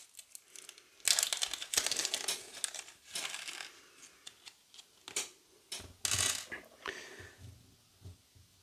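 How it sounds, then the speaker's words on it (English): A small plastic bag holding four tiny flathead screws crinkles and rustles as it is handled. Close, irregular bursts of crackling come with short pauses, and a few faint clicks sound in a quiet room. "so we get our screw from this little bag"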